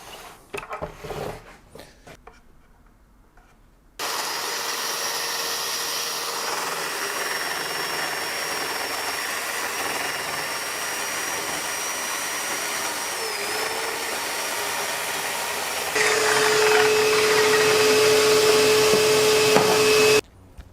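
A new track saw with a fresh blade cuts through timber in one long, steady, loud whine, rising to a harsher pitch near the end of the cut after a few seconds of quiet handling noise at the start.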